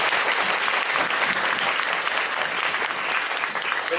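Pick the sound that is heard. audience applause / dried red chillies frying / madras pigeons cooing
audience applause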